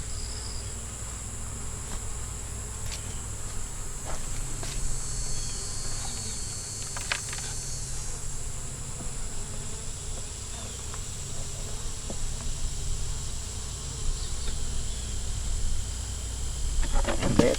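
Honeybees buzz around a beehive: a steady, dense hum from many bees continues throughout, fairly close and fairly loud, with no talking.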